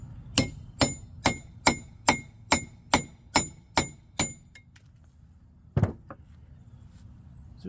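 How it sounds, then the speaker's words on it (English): A knife of Delta CPM 3V steel is driven through a bolt with nine evenly spaced, ringing metallic strikes, then a pause and one last sharp clank, all close and clear with no speech. "we're gonna cut a bolt here"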